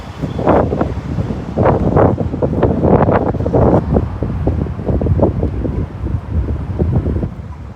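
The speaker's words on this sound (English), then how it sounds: "A little bit windy down here." Wind gusting on Adelaide Street in Brisbane, buffeting the microphone in loud, rough rumbling bursts that rise and fall over several seconds.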